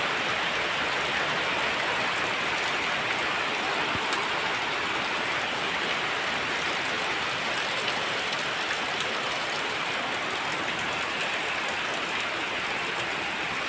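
Heavy rain pours down steadily, a dense, unbroken wash of patter and splashing that stays even and loud throughout, with no voices.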